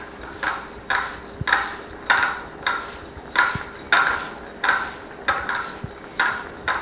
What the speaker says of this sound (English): Mixing it until there's a nice even semi-clumpy texture to them